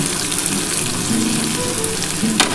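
Continuous close sizzle of onions frying in a pan, with an occasional stir or scrape and no talking.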